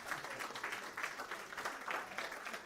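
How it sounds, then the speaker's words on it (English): A church congregation applauds its event volunteers with soft, distant clapping, a thin steady patter with slight pulses, heard alone and fairly faint. "let's give them a round of applause"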